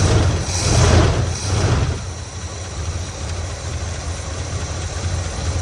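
A 1979 Chevy Scottsdale pickup engine with a faulty carburetor idles loudly up close, a steady low rumble with a louder surge near the start that then settles into an even drone, no speech.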